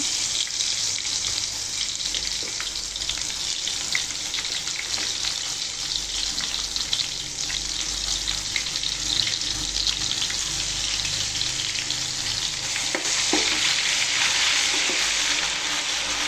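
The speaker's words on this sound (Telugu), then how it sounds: "ఇప్పుడు ఇందులో 4 స్పూన్ల అల్లం వెల్లిగడ్డ వేయాలి, ఫ్రెష్ది. ఇదే ఆయిల్లో" Fresh ginger-garlic paste, four spoonfuls, frying in the same oil used to deep-fry prawns for pickle, giving a loud, steady, close hiss with faint stirring scrapes throughout.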